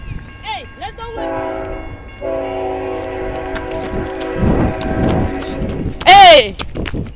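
A BNSF freight train rumbles past close by, its horn blaring in sustained chords and a final loud blast, with wheel noise underneath and excited voices calling out.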